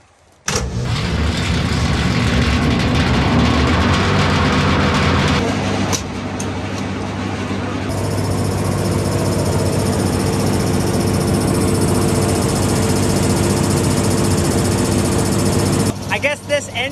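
A 1928 engine powering a sawmill cranks and catches with a loud burst, then settles into a steady, close, rumbling run with a rhythmic mechanical clatter.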